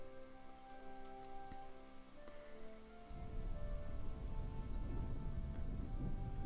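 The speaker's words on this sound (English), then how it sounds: "lightning just struck our stuff" A lightning strike in the video game Rise to Ruins sets off a sudden rumble of thunder with heavy rain that swells over steady game music tones, with no talk.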